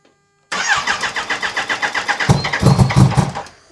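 A motorcycle engine fires up abruptly after silence and settles into a loud, close, pulsing idle, then gives a couple of quick throttle blips near the end.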